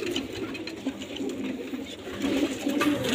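Hyderabadi pigeons coo softly and repeatedly at close range, with faint rustling and background noise; no voices.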